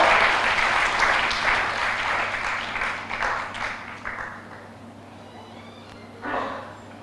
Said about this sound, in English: once again, a round of applause for our two presenter